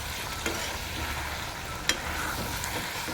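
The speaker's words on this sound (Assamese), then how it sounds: "এনেকৈ ভাজি ভাজি লৰাই লৰাই একেবাৰে মাংসৰ পৰা ওলোৱা পানীখিনি একেবাৰে শুকুৱাই দিছোঁ" Duck meat sizzles steadily as it fries in a pan and is stirred, with faint scraping and a couple of sharp clinks of the utensil against the pan.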